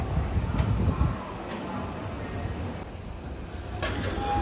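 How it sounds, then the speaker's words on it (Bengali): A train hauled by a WAP-7 electric locomotive rolls into Howrah station with a low, continuous rumble that is heaviest at first, then settles into a quieter drone with faint clanks. "37719 হাওড়া ওয়েব 7 ইঞ্জিন নিয়ে প্রবেশ করলো হাওড়া স্টেশনে"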